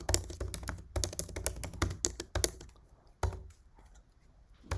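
Quiet bursts of rapid typing on a computer keyboard, clusters of close key clicks separated by short pauses.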